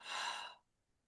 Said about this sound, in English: Breathing in for 2, exhale 4.